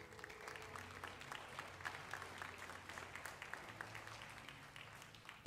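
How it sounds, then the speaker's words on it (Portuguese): Church congregation clapping during a worship service, a soft, scattered, fairly distant patter of hands, with a low hum beneath it. "uma salva de palmas ao Senhor."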